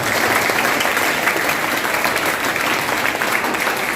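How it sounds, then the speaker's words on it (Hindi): A school audience at a Siliguri Hindi high school's child cabinet event gives loud, steady applause for the announced education minister, with dense clapping filling the whole stretch. "आप लोग जोरदार ताली एजुकेशन मिनिस्टर"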